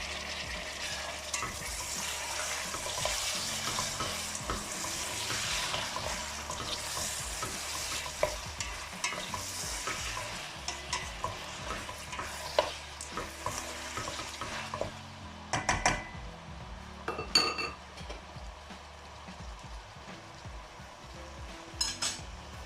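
Tomatoes and peas for a vegetable pulao sizzle steadily in a hot pot while a spoon stirs them, and scraping and metallic clinks come through more clearly near the end as the frying softens.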